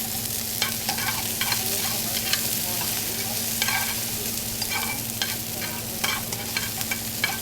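Onions sauté in a pan over high heat, giving a steady, close sizzle with frequent clicks and taps of a utensil stirring and scraping through the seven seconds. No one speaks.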